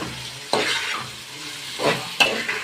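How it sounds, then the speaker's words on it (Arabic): Red, yellow and green bell peppers sautéing in a single pot, a steady sizzle with a few stirring scrapes, close and alone. "نحط معايا فلفل احمر واصفر واخضر اهو، وهنشوحهم معايا"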